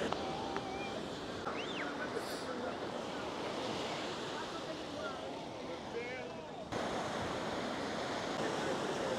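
Ocean waves wash steadily onto a beach in Cape Verde, a constant broad surf roar with wind buffeting the microphone and faint voices in the background.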